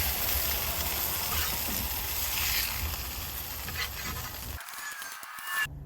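Bacon sizzles on a Blackstone griddle with a dense, crackling hiss close up, steady for several seconds before a few scraping clatters at the end.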